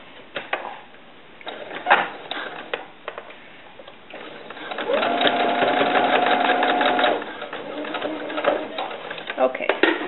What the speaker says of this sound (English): so I'm just going to stitch across that.